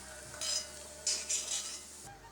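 Raisins fry and get stirred in a pan, with a few short, close sizzling bursts as the spoon moves through them. No one speaks.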